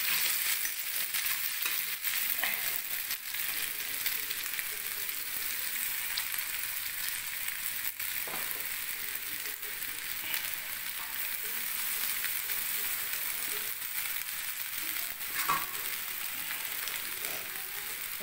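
Egg chow mein stir-fries in a pan with a continuous soft sizzle and occasional scraping knocks of the spatula, steady and close but fairly quiet over the whole stretch.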